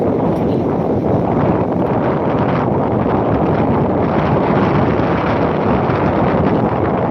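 Strong wind along a seaside promenade, a loud, continuous roaring buffet across the microphone with no letup.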